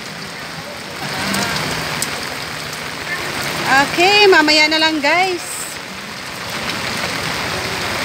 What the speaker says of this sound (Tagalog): Dahil ang lakas ng ulan.